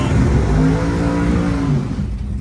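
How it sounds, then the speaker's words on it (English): A Cummins diesel Chevy truck on mud tires launches hard at a dragstrip, its engine roaring loudly and steadily throughout with a rising whine. "lock the truck in 4-wheel drive, spool it up, and launch it"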